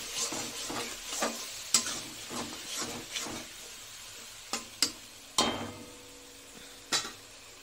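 Pieces of katla fish fry in a pan with a steady crackling sizzle, broken by sharp scraping clinks of a spatula turning them every second or so; no one speaks.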